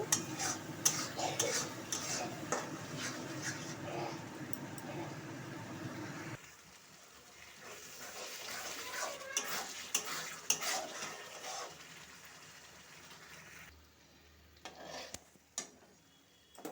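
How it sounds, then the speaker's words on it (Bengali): Spices with turmeric being stir-fried in a pan for a chicken curry with potato and papaya, giving steady sizzling with repeated scraping and clinking of a utensil against the pan, close but soft, the frying noise dropping partway through. "হলুদ দিয়ে দিলাম, মশলাটাকে আমি এইভাবে কষিয়ে নেব।"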